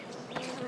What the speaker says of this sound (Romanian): Încerc să omor albina. Înainte să ne înțepe.